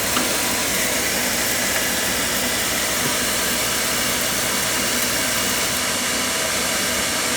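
An oil boiler burner running, a loud, steady roaring hiss from start to finish without a break.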